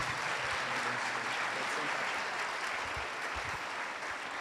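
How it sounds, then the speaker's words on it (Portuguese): A church audience at an evening gathering applauds: continuous dense clapping at an even level throughout, slightly distant, with no clear voices over it. "Você pode aplaudir mais uma vez a vida dela?"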